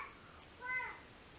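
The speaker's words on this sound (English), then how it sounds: "I'm so sorry about my baby making all this noise" A baby girl babbles briefly indoors, one short excited high-pitched vocal burst over a quiet background.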